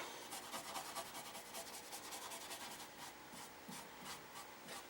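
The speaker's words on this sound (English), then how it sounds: "brushing lacquer again, using a small brush, and I'm kind of scrubbing it in to make sure it gets into all nooks and crannies" A small brush scrubbing lacquer into the wood veneer of an old black-and-white tube TV cabinet, a steady close bristly rubbing with rhythmic strokes going with the grain, no voices.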